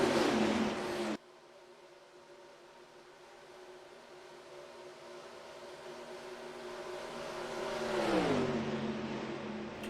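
A NASCAR stock car engine in the NR2003 racing game drones steadily at high revs, then rises into a louder pass with a falling pitch sweep near the end. No one speaks.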